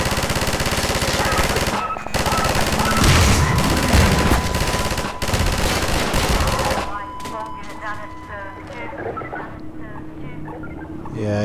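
A mounted gun in Half-Life 2 fires long, rapid bursts for about seven seconds, loud and close, then stops, leaving quieter game noise as voices talk.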